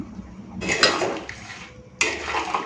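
A spoon scrapes and clatters in a pot of duck egg curry with new potatoes as it is stirred, in two close, distinct bursts of metallic stirring.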